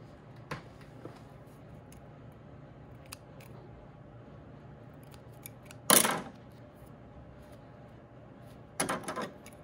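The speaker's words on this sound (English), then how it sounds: "grab your shears to just trim off any loose threads" Fabric shears snip loose threads from a sewn garment with elastic in its casing: two short crisp cuts, near and distinct, over a quiet room background.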